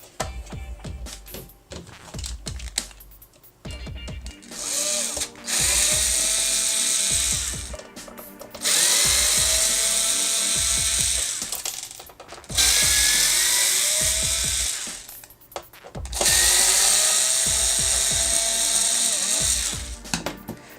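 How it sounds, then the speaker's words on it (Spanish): A small power screwdriver backs screws out of an Xbox One S case, buzzing in three loud bursts of a few seconds each, separated by brief clicks and handling noise. "una vez quitado ya los tornillos, le damos otra vez la vuelta"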